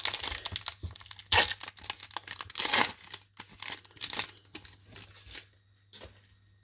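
A 2022 Bowman baseball card pack is torn and crinkled open up close, with bursts of ripping foil wrapper and crackling plastic followed by softer rustles and card shuffling.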